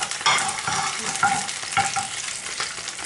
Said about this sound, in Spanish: ahora voy a poner la, los ajos y los voy a, a, dorar un poquito